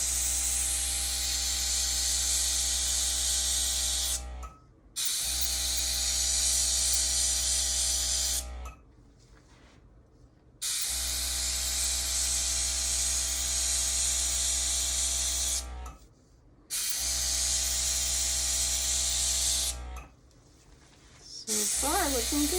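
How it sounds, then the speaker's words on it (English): A small air gun blows a steady, loud hiss in long bursts, pausing briefly between them, with a constant low hum underneath. "I'm using this little air gun."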